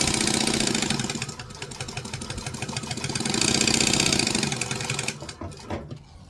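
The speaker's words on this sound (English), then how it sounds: "So we're just going to sew within the seam allowance." A sewing machine stitching within the seam allowance of a fabric seam, a rapid mechanical whirring run that slows and speeds, then stops near the end with brief handling noise.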